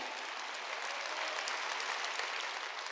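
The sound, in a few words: congregation applauding in church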